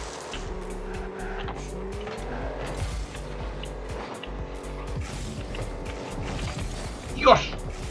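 Game car engine in Rocket League humming steadily, a layered droning tone that shifts in pitch, with a sharp louder burst near the end and faint voices underneath.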